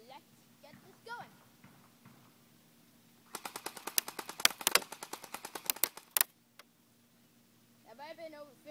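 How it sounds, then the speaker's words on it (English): Crosman Pulse R71 airsoft gun firing outdoors, a fast full-auto string of sharp clicking pops lasting a few seconds, close and crisp, with someone talking before and after. "So, I'm going to shoot 50 feet back, right about here."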